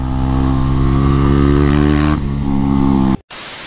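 Loud, close engine roar from a KTM Duke 250 motorcycle running without an exhaust, held at high revs for about three seconds, then dropping off abruptly as a gust of wind-like noise takes over.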